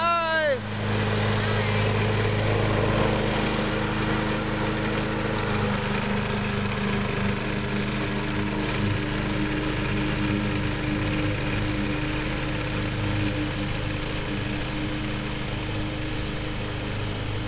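A lawn mower engine drones steadily in a backyard in August, a continuous close rumble with a constant buzzing tone that holds without break from start to finish.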